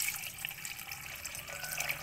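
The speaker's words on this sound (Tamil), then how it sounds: "நல்லா கொஞ்சம் குடல் வேகிற அளவுக்கு தண்ணி விடுங்க" Water pours steadily into a pressure cooker with a rushing, splashing sound that stays even throughout, with no voices.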